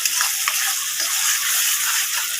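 Masala spice paste sizzles in hot oil, a steady, bright frying crackle with occasional sharper pops, close by and unbroken by any voice.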